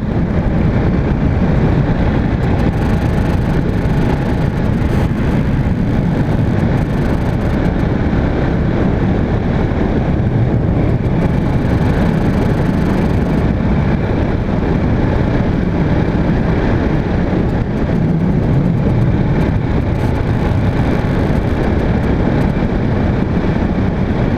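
Husqvarna 701 Vitpilen motorcycle engine running steadily up close, a loud continuous low rumble with broadband roar and no voices over it.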